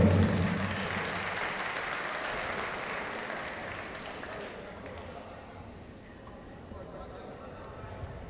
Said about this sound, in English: Big round of applause, ladies and gents